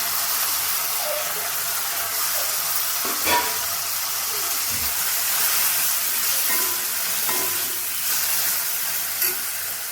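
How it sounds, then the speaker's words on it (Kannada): Chopped onion and two large chopped tomatoes fry in a pan for idli sambar, giving a steady, close sizzling hiss with a few faint stirring clinks and scrapes throughout. "ಈರುಳ್ಳಿ ಫ್ರೈ ಆದಮೇಲೆ ನಾನು ದೊಡ್ಡ ಸೈಜ್ ಎರಡು ಟೊಮೊಟೊನ ಸಣ್ಣದಾಗಿ ಕಟ್ ಮಾಡಿಬಿಟ್ಟು ಹಾಕ್ಕೊಳ್ತಾ ಇದ್ದೀನಿ"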